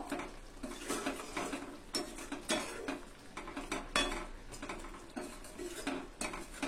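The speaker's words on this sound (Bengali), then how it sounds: "তো দিয়ে এভাবে একটু নেড়ে চেড়ে মিশিয়ে দিব।" Whole cinnamon bark and a cardamom pod stirred in a pan while making mango pickle, a spoon scraping and clinking against the metal in busy, irregular strokes, close and steady with no voices.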